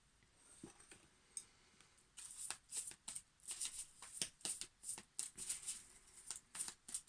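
Tarot cards being shuffled close up, a quiet opening of soft slides and taps that turns into a quick run of crisp, rhythmic riffling bursts.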